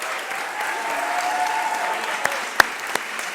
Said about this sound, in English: Can we give these folks a big round of applause?